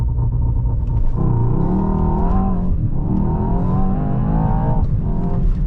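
A 2025 Mercedes-AMG S63 E-Performance launches hard in drag race mode, its engine a loud, continuous roar with deep rumble that climbs steadily in pitch through two upshifts, heard close from inside the cabin.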